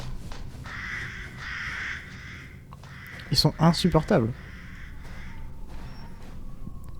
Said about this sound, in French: quand on entend le bruit des corbeaux, on comprend pourquoi les gens les butaient